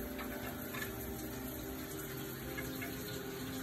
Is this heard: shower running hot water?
yes